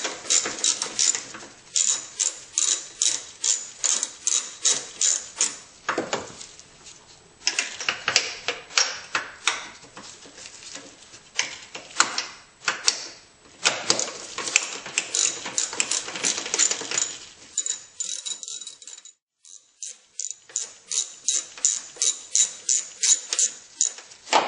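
Ratchet wrench rapidly clicking as it backs out bolts from the cruise control mounting on a Honda Prelude, in repeated bursts of fast close ratcheting separated by brief pauses.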